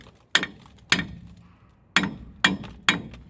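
A hammer taps a rusted brake rotor on a Ford F-150 five times in uneven succession, each a sharp close metallic clank with a brief ringing decay.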